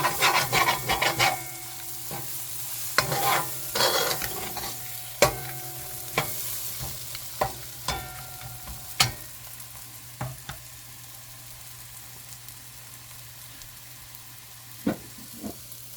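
Curry powder for a Guyanese seim curry frying in oil in a pot, stirred and scraped steadily with a spoon, with a soft continuous sizzle and sharp scraping clacks that fade to sparse taps toward the end; no talking.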